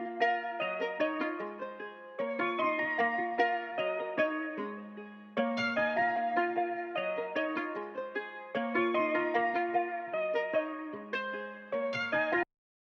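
A simple plucked melody loops in short repeating phrases, bright and steady with a bass note under each bar, playing alone without any voices.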